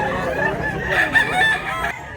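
A rooster crows nearby in a drawn-out call on a gamefowl farm in Mantalungon, Cebu, with other fowl and farmyard ambience in the background.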